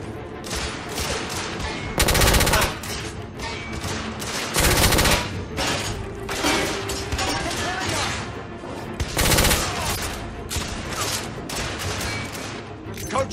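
Gunfire fills a Victorian-era battle in the PS4 shooter The Order 1886, with loud bursts of rapid shots and heavy blasts recurring through the fight, backed by a dense din and occasional shouted voices.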